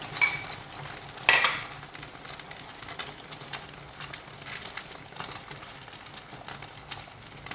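Beaten egg mixed with fermented pork (naem) pours into a hot pan with garlic and crackles in a busy, close sizzle, with bursts of spattering and scraping as it fries, no voices.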